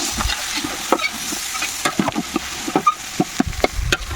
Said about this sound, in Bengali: মাছগুলোকে ফ্রাই করতে অনেক সময় লেগে যাচ্ছে